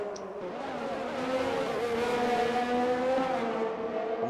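Race cars lapping a track in an F1-style racing video game, a sustained high-revving engine whine rising and falling in pitch as the cars hold close together, steady and moderately loud with no voices.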